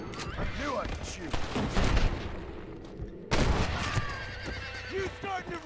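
Gunshots ring out in Red Dead Redemption amid horses whinnying, a cluster of sharp cracks early and another loud shot midway, with speech over the action.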